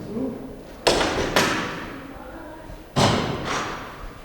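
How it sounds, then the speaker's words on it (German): Two pairs of solid thuds sound as the doors of an all-aluminium Crawler offroad caravan swing shut, each slam close and sharp, followed by a short fading rattle. "So, bitte mal alle Türen schließen."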